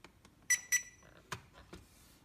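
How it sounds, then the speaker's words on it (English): Two short electronic beeps in quick succession from an SG700 quadcopter remote controller during calibration, then a few faint clicks and soft rustling in an otherwise quiet room. "you should hear a couple of beeps"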